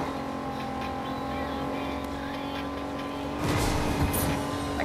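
Engine drone of a car being driven in the video game Fortnite, a steady hum that swells louder near the end with a burst of rougher noise.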